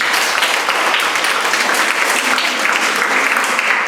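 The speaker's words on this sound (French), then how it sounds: "Vous pouvez l'applaudir quand même." An audience at a French book-prize ceremony applauds, a full, steady burst of clapping that holds evenly for the whole stretch without talk.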